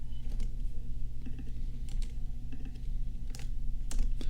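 Fast, close clicking of keys on a computer keyboard while coding, irregular bursts of keystrokes over a low steady background hum, no talking.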